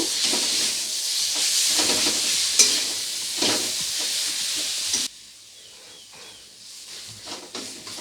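Ginger garlic paste fries with spices in a pan for egg biryani, giving a bright, loud sizzle with spoon scrapes and stirring for several seconds, then dropping abruptly to a much quieter hiss with occasional pops.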